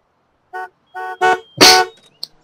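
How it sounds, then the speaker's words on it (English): A car horn in The Sims 3 honks in a few short, clear toots, then two louder, rougher blasts and a small chirp, with no talk over it. "Honks the horn without even moving."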